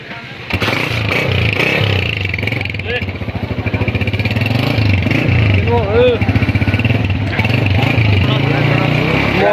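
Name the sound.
motorcycle kick-started and engine running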